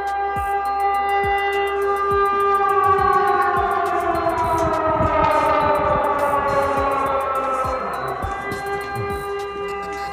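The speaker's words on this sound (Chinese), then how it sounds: "警报响了啊！" Air raid siren wailing over Lviv, Ukraine, a loud sustained rising and falling tone echoing across the city with steady pitch bends, continuous for the whole stretch.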